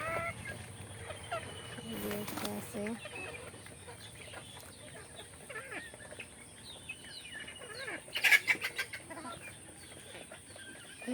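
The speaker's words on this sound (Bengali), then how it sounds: "বৃষ্টির কারণে মুরগিগুলো ভিজতেছে" Farm chickens caught out in the rain cluck intermittently at moderate distance over a steady wet hiss, with a burst of louder calls near the end.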